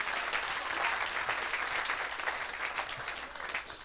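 A congregation at a church service applauds and acclaims Jesus with steady, dense clapping that stays loud and even throughout, with only faint crowd murmur underneath.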